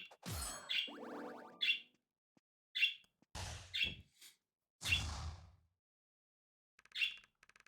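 Birds in the video game Wizard of Legend chirp in short, bright separate bursts, each one loud and close, with brief whooshes between them and silent gaps.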